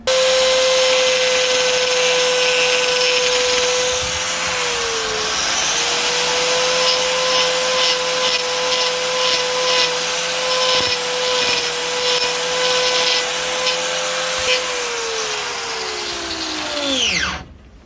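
Loud, steady whine of a power grinder trimming a cow's overgrown curly hoof, running almost continuously with slight pitch dips as it bites, then winding down abruptly at the end.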